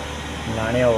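A diesel car idles steadily at about 2000 RPM during DPF regeneration, a close, continuous engine hum with a rising tone near the end, heard under a man's speech.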